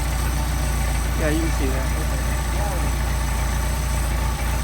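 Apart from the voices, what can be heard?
Mercedes 190SL engine idling with Solex carburetor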